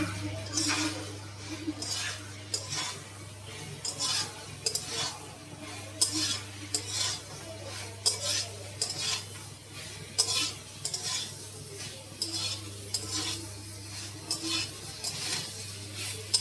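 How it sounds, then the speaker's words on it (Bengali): Fried soybean chunks and potatoes stirred into a cooked-down spice masala, a steady sizzle with repeated scraping and clinking of a spoon against the pan throughout, over a constant low hum. "মশলাটা খুব সুন্দর করে কষানো হয়ে গেছে এবার আমি দিয়ে দিচ্ছি ভেজে রাখা সয়াবিনের আলু"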